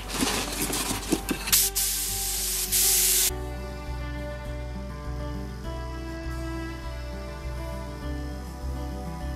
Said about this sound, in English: We're just going to pop it in and spray it.